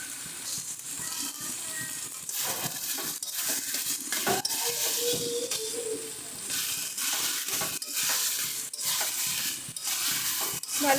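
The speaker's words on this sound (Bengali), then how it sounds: "ভালো করে মিশিয়ে নিচ্ছি সমস্ত কিছুর সঙ্গে।" Chopped tomato being stirred into a sizzling mixture in a pan for a prawn dish with taro stems, with steady scraping and frying crackle running throughout, close and moderately loud, with no talking.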